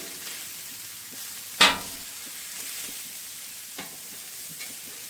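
Cabbage cooking in a pan gives a low, steady sizzle with one sharp clatter near the start and a few fainter knocks later, likely from a utensil stirring against the pan.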